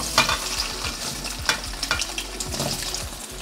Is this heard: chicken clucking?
no